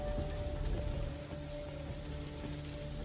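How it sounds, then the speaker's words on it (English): Rain falls steadily around downtown Boston, a faint, even hiss with soft patter and a low hum beneath it, continuous throughout with no talking. "Cause this rain ain't gonna ruin shit."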